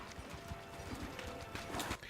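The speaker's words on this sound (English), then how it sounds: "Oh yeah, that's her horse." Horse hooves clip-clopping in The Witcher video game, a steady run of close, fairly loud hoof beats with a faint whinny-like tone, over a busy background and brief talk.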